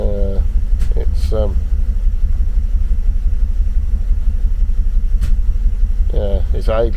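A car engine idles low and steady at about 600 rpm with the auto choke off, a constant close rumble; a voice speaks briefly at the start and again near the end.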